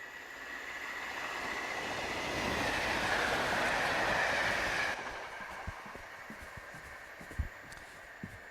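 A train rumbles past at a railway level crossing, a broad steady roar that swells over about five seconds, then cuts off sharply, leaving faint clicks and distant rail noise behind.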